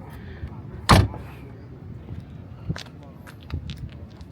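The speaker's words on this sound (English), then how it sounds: "I love the way that these doors open up." A Maserati MC20 forged carbon door opens with a sharp thunk, followed by a few lighter clicks and movement sounds as people speak nearby.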